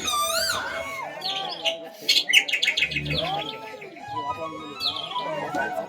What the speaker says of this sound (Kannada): ಕುಹು ಕುಹು ಎಂದು ಕೂಗುವ ಗಾನ